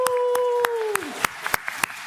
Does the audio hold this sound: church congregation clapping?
yes